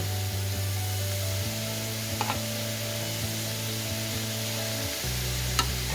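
Zucchini noodles browning in a hot pan on high heat make a constant hiss and sizzle with a low hum underneath and a few faint scrapes and taps.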